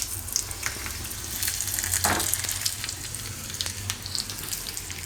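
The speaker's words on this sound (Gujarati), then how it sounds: "તો આપણો વઘાર તૈયાર થઈ ગયો જીરાનો ગેસ બંધ કરી દે અને આમાં આપણે મરચાં આ રીતે તોડીને નાખી દઉં" Broken chillies hit a hot cumin tempering with the gas turned off, giving a loud continuous sizzle with crackling pops and a brief stirring scrape partway through.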